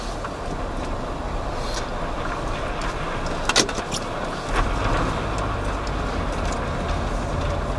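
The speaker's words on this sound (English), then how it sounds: "every car in Tennant Creek decides to just pull up behind me at once" Cars pulling up behind a stopped vehicle in Tennant Creek, a steady engine and road rumble from inside the car with a brief sharp clatter midway and a deeper idling drone building toward the end.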